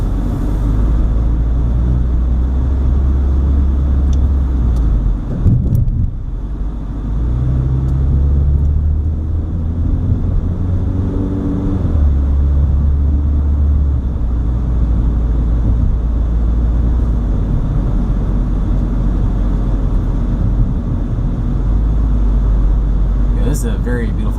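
A car driving through Cuyahoga Valley National Park, its engine and tyres making a loud, steady low rumble from inside the cabin that swells and eases a little but never breaks.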